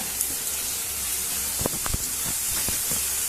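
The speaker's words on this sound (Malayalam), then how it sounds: "നന്നായി ഇളക്കി കൊടുക്കുകയാണ്. പച്ചമണമൊക്കെ ഒന്ന് മാറട്ടെ." Chili powder masala sautéed for South Indian tomato rice, a steady hiss of frying in a pan broken by a few sharp clicks and scrapes of stirring near the end, close, with no talking.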